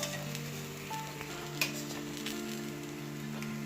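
Thepla flatbread sizzles steadily on a hot griddle as its second side cooks, a continuous soft frying crackle with one brief sharper tick, close and alone without speech.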